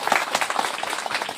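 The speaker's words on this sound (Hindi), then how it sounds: "उनके लिए भी एक बार धन्यवाद का आप ताली बजाइए" An indoor audience at a digital education event claps together in a dense burst of applause, steady and fairly loud over a brief stretch with no talk over it.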